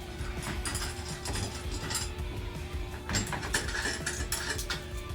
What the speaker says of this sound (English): I'm going to loosen off the nuts off the bottom of the bolts